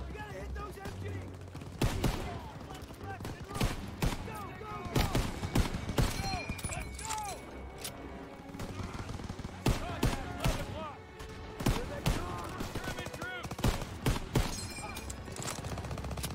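Machine gun fire in the Call of Duty: WWII video game, repeated sharp bursts of automatic gunfire crackling in clusters across a battlefield, mixed with scattered shots and voices talking over the din.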